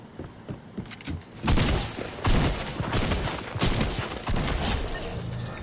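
Rapid gunfire in the video game Fortnite, dense bursts of shots and impacts filling the clip loudly with little pause.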